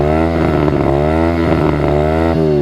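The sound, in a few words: Apollo 125RFZ motorcycle engine revving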